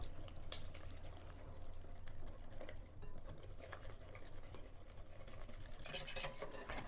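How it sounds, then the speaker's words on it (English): A whisk beats two eggs and salt into a smooth batter for a pizza cobbler, a quiet, continuous rapid scraping with faint clinks against the bowl. "Now we're going to whisk it around."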